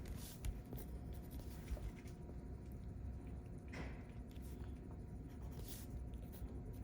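Pleat spacing is marked on fabric at one-inch intervals: a few faint, scratchy marking strokes come and go over a low, steady background rumble.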